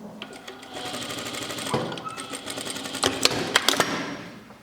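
A sewing machine stitches a knit shirt, running as a close, steady mechanical whir that gets louder and more clattery toward the end.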